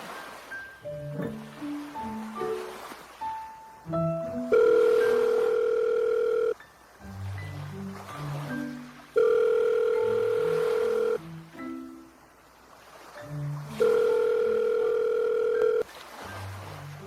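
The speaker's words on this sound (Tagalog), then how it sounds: "kunin ko lang yung cellphone ko. Tawagan ko siya." Mobile phone call ringback tone, repeating steady tone bursts in a regular pattern over a soft musical background, with no talking.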